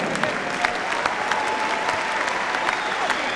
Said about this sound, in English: both these boys deserve a big round of applause for an absolutely tremendous contest